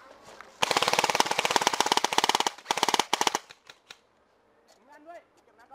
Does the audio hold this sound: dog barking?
no